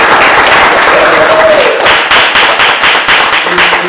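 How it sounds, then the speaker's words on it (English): An audience in a theater claps for a community organization's in-person mass meeting in Baltimore, giving dense, steady applause that stays loud and close throughout. "So we got to clap it up for that."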